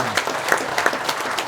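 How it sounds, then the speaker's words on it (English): Outdoor crowd at an offroad festival applauding, a loud, dense patter of many hands clapping nearby for a short burst. "let's have a big round of applause for Eddie Graham"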